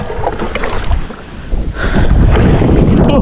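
Rainy wind gusts roar over a small boat on open water, buffeting the microphone with a loud, continuous rumble that swells stronger partway through. No one speaks.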